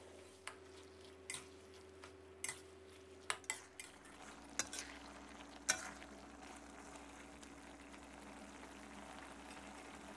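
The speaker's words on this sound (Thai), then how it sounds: "ให้เราผัดคลุกเคล้าให้เข้ากันนะครับผัดให้หมูเราสุกเลยนะครับ" Pork stir-fried with garlic and pepper in a pan, with a soft continuous sizzle under repeated sharp clacks and scrapes of a utensil against the pan, some louder hits midway.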